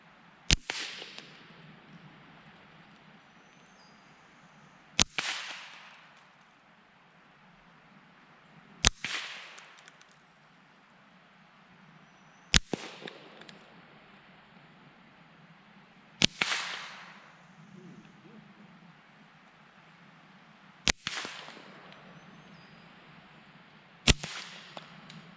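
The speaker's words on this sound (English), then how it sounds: "I am going to plink on some shotgun shells" Seven sharp gunshots crack out one by one, spaced a few seconds apart, as a shooter plinks at shotgun shells; each report is loud and brief with a short ringing decay, with quiet between shots.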